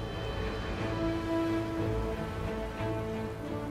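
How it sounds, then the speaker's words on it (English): Steady rainfall in the video game Divinity: Original Sin 2 hisses continuously, even and unbroken, with a faint tonal hum underneath and no voices. "Is this rain natural? Is it gonna put out this fire?"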